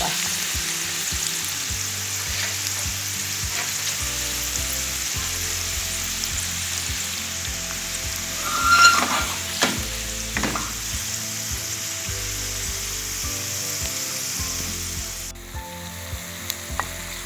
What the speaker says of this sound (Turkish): Kızartacağım doldurduğum mantılarımı.